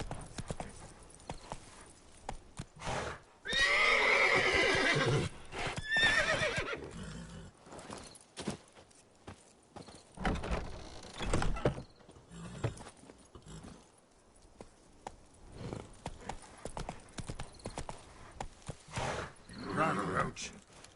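Roach the horse in The Witcher 3 whinnies loudly and gallops with clip-clopping hooves, intermittent bursts of hoofbeats and game effects, while someone talks over parts of it.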